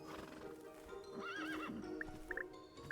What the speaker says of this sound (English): you guys are all looking really hungry at that feeding trough, little horses, aren't you?